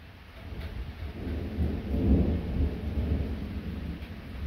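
Thunderstorm with a low, rolling rumble of thunder swelling and fading over steady rain noise, moderately faint and distant, no voices.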